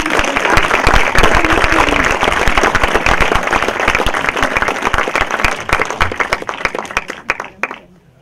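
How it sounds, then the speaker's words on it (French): A crowd at a political meeting gives loud, sustained applause for a speaker being introduced, sharp individual claps standing out near the front before the clapping thins and dies away at the end. "je vous demande d'applaudir"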